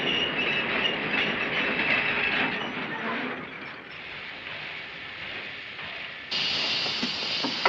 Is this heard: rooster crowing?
no